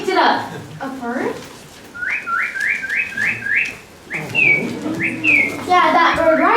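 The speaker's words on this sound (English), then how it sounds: "Yeah, that bird right there." Bird whistling and chirping in a string of short rising whistled notes, fairly close and rhythmic, with murmured voices and background sounds weaving between the calls.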